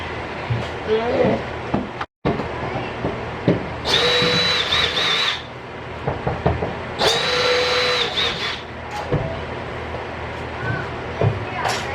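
A power drill whines in two long, loud bursts as it removes rivets from the side panel of a school bus during a conversion, with clanks, scraping and speech in between.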